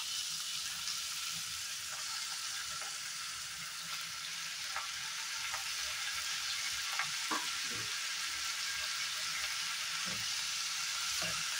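Fish curry ingredients with potato, green chillies and leaves frying in a pan, a steady hissing sizzle with faint scattered stirring taps, fairly quiet and without speech.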